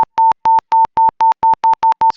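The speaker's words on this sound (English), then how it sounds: "the beep frequency also increase as the force increase." Repeated electronic beeps from a Robotiq adaptive gripper's force control feedback: eleven short, steady, loud tones in an even, quickening rhythm, heard alone with no talk.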